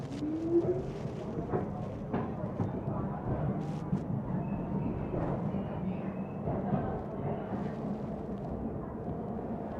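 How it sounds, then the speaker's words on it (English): Inside a New York City subway N train headed toward 8th Avenue, a steady low rumble of the moving car fills the space, with occasional squeals and clanks and faint voices in the background. "On the N train going home 8th Avenue"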